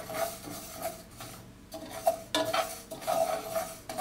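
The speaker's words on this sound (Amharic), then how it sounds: "ስለዚህ ቶሎ ቶሎ አማስላለሁ" A utensil stirs niger seeds (nug) roasting in a hot pan, making a dry scraping rattle with faint crackle, quick repeated strokes at close range and no voices.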